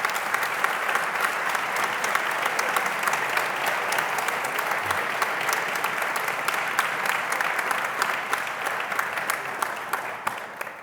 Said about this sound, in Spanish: Creo que merece un aplauso,